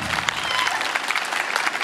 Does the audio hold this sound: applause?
yes